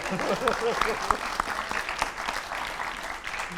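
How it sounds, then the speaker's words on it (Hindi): An audience at a live Diwali Deepotsav broadcast in Ayodhya breaks into applause, a continuous crowd clapping heard under a voice and other chatter. "27 साल का बेटा यहाँ पे मौजूद है, पहले ताली बजा दीजिए।"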